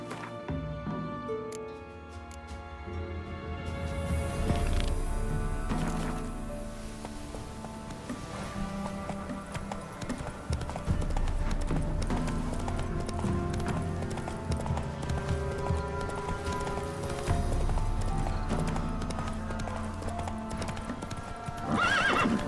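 Hooves of Roach, a horse in The Witcher 3, pound in a steady galloping clip-clop with a whinny, set against constant game music and ambience.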